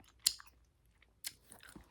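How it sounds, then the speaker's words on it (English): Close-up gum chewing in a quiet ASMR setting: a few soft, wet smacks and clicks spaced out over about two seconds, faint and intimate. "I'm going to wrap up the video by doing a few minutes of just gum chewing"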